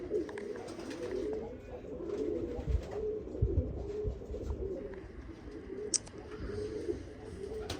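Soft, repeated cooing of pigeons rises and falls steadily throughout, with low outdoor rumble and a few faint chirps in the background.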